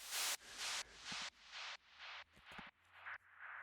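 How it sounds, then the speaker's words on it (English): Bursts of white noise with a sharp attack repeat in a steady quarter-note delay pulse, each echo slightly softer and duller than the last, fading into a quieter tail. "it's just this like white noise with a attack to it, and then you just have a ton of quarter note delay on it"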